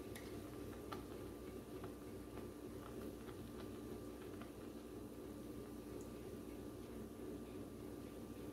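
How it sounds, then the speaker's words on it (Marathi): Indian mackerel (bangda) curry simmering at a boil in a pot, a quiet steady bubbling with faint ticking pops throughout, low and even. "तुम्ही इथे बघू शकता आपल्या कालवणाला छान अशी उकळी आलेली आहे"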